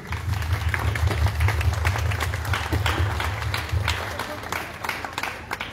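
Applause from an audience at a literary tribute event, a crowd clapping at moderate loudness over a steady low hum, with scattered individual claps standing out.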